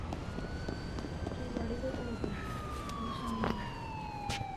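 Police siren in the Gangster Vegas video game, a loud rising and falling wail that sweeps steadily through the whole stretch over game engine noise, while someone talks briefly.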